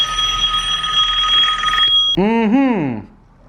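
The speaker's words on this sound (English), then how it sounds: "Every time my phone rings, it's always drama." A mobile phone rings with a steady, sustained electronic tone that cuts off and turns into a warbling, falling ring pattern, loud and close, with talking nearby.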